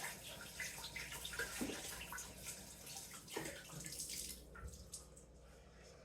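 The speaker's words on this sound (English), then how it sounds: "Rinse it out." Running water from a tap splashes steadily while a cast iron pot is rinsed out, a continuous broadband wash with faint clinks, close and moderately loud with no talk.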